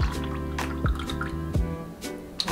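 Melted butter is poured from a measuring cup over a pumpkin dump cake, giving soft wet drips and splats at an uneven pace, quiet and close, with no talking.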